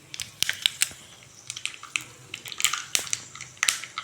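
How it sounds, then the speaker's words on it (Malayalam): Dried red chillies are broken into a pan of hot coconut oil with mustard seeds, giving quick crackly snaps and sizzling pops, close and irregular, in scattered clusters over a soft background hiss. "മുളക് പൊട്ടിച്ചിട്ടു."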